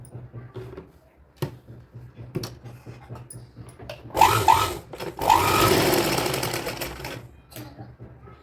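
An electric sewing machine stitching a cotton dhoti kurta for a one- to two-year-old girl runs in one sustained whirring burst of a few seconds, after quiet handling sounds and a few soft clicks.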